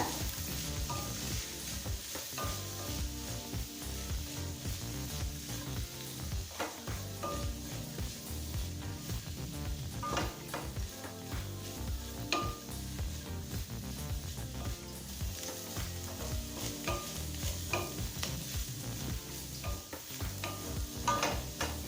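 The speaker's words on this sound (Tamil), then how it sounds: "முட்டைகோஸை நல்லா பச்சை வாசனை போக நல்லா வதக்கிக்கோங்க." Cabbage sautéing in oil in a kadai for a cabbage chutney gives a steady close sizzle with frequent scraping stirs throughout, and no one speaks.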